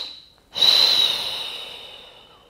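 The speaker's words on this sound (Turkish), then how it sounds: "Son nefeste tüm nefesi boşaltıyorum." One deep, forceful exhale during a pregnancy breathing exercise, loud and close, a rushing airy breath that slowly fades, preceded by a softer intake.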